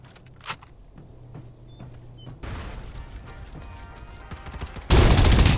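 Gunfire in the mobile shooter Farlight 84 played on an iPad mini 6: a few sparse clicking shots first, then sustained rapid firing that builds and ends in a loud, heavy blast of shots.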